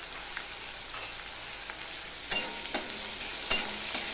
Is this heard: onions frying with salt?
yes